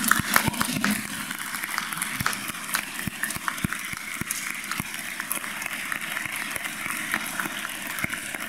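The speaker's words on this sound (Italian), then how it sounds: "facciamo un applauso, che ci sta." Faint applause from an audience at a talk about Saint Gianna Beretta Molla in Lugano-Breganzona, a thin, steady patter of claps heard from a distance, with some scattered louder claps.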